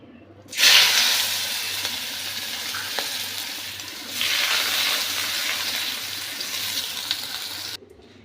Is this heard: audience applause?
no